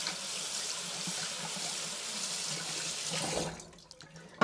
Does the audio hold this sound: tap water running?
yes